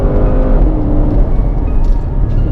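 A 2017 Porsche Panamera Turbo saloon accelerates hard, its loud engine note rising in a steady, close drone with deep rumble throughout.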